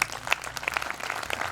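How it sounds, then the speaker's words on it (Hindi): An assembly audience applauds, with a dense patter of clapping hands that stays moderately loud for the whole short stretch. "पूरी सभा के लिए जोरदार तालियां"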